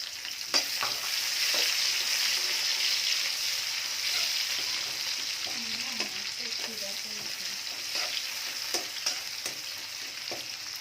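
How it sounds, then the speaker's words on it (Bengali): Oil sizzles steadily up close as garlic fries, while a utensil stirs and scrapes now and then, a continuous frying hiss with no voices. "রসুন ভাজা হয়ে গেছে"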